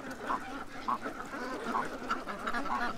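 A group of ducks quacks in a busy, overlapping stream, with several distinct nasal calls standing out over the constant chatter of the flock.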